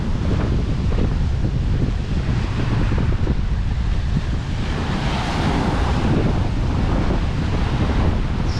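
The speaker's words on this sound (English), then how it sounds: "This wind is scaring me a little. Gusts of up to 50 to 60 today." Strong gusting wind on a stormy day in Indiana, with gusts of 50 to 60, roars loudly and continuously, buffeting the microphone with a dense, rushing rumble and no voices.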